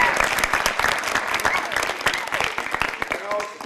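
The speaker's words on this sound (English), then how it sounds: "So just give West Coast a clap." Spectators clap for the West Coast FC youth soccer team after a GU9 State Cup final, a lively burst of applause with some cheering voices mixed in, fading slightly toward the end.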